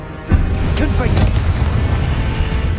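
In Hogwarts Legacy on PS5, a Confringo fire spell strikes with a sudden loud blast, followed by a sustained rumbling roar while a voice shouts over it.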